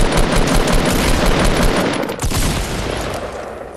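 Shotgun blasts in Fortnite Battle Royale hammer away in a dense, loud, continuous barrage of rapid overlapping shots, easing off slightly toward the end.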